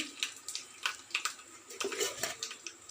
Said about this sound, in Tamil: ஒன்றரை லிட்டருக்கு தேவையான அளவு தண்ணீரை ஊற்றிடணும்